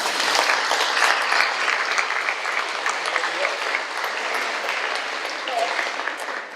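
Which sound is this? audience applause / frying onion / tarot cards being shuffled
audience applause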